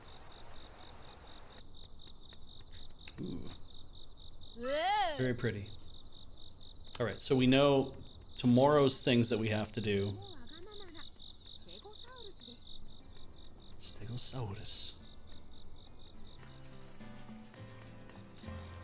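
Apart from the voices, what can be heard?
frogs at night, from Shin-chan video game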